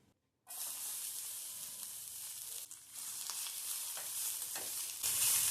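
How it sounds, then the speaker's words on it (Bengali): Chopped onion hitting hot oil for egg patties, a sudden loud sizzle that erupts after a brief silence and keeps hissing steadily, swelling stronger near the end, close by with no voices. "এবার তেলে দিয়ে দিচ্ছি পেঁয়াজ কুচি"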